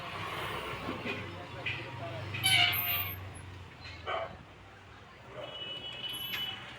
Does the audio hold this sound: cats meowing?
yes